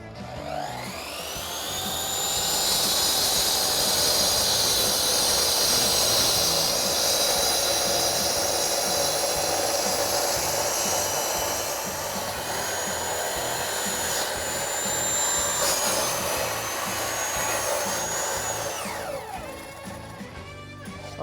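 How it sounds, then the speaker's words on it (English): A petrol cut-off saw with a general-purpose diamond blade slices through a large insulation block, a loud sustained high-pitched whine that holds steady for about eighteen seconds, then winds down and stops at the end. "We have a big insulation block here, general purpose diamond blade. We'll go through this."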